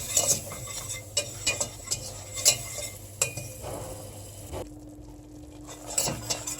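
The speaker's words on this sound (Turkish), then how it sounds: "Ve bu unu bu şekilde kokusu çıkana kadar kavuracağım." A spoon stirs flour as it toasts in a pot for chickpea chicken soup: close, irregular scrapes and light clinks against the metal over a faint sizzle, with no voices.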